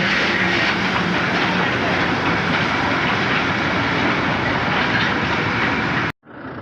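A loud, steady rumble of a train at Darjeeling railway station, India, with faint rail clatter, runs unbroken for several seconds, then cuts off abruptly.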